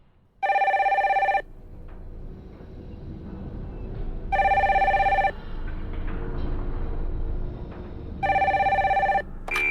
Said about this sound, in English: When the phone rang at the Martins' home in Royal Oak, Michigan